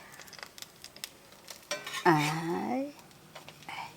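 Small fish and bottle gourd leaf fritters frying in a pan, with scraping and clinks as they are flipped, then a short burst of rising sizzle; a voice speaks briefly at the end.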